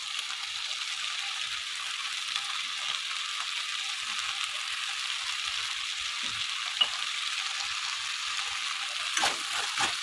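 Vegetable Maggi noodles frying in a pan with salt just added, a continuous close sizzle under occasional soft spoon scrapes as the mix is stirred, with no voices.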